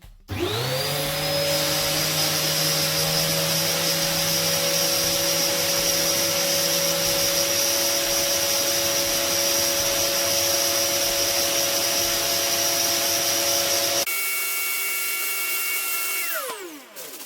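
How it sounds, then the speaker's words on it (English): A Hoover vacuum cleaner starts up and runs with a loud, steady motor whine and hum for most of the time, then switches off and winds down near the end. "So you obviously need a hoover"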